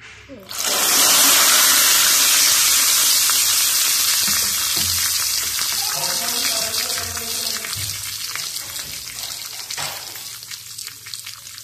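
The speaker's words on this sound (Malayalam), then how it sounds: "കുറച്ച് കറിവേപ്പിലയും കൂടി നമുക്ക് ഇതിലോട്ട് ഇട്ട് കൊടുത്തിട്ട് നന്നായിട്ടൊന്ന് വറുത്തെടുക്കാം" Curry leaves crackle and spit in hot oil for the tempering of a Kerala-style moru curry (buttermilk curry), a loud, dense sizzle that starts after a second and holds steady, with a few sharper pops partway through.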